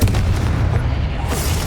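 A Confringo fire-blast spell bursting in Hogwarts Legacy, a loud booming explosion with dense low rumble filling the short moment.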